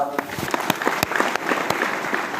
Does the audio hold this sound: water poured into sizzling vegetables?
no